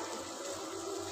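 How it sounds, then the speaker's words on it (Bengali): Water pours steadily into a pot of simmering curry with potatoes and beans, a continuous soft gushing wash heard close and fairly quiet, with no talking. "জল দিয়ে দিব।"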